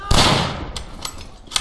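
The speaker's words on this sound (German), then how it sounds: "Können wir mal schießen, vielleicht treffe ich ja." A rifle shot in the WWI shooter video game Verdun, a single loud close blast with a booming tail, followed by fainter distant cracks of gunfire.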